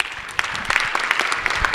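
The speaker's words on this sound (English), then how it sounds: "please hold applause till the end" Audience applause at a gubernatorial forum, a dense burst of many hands clapping close and steady, with no talk.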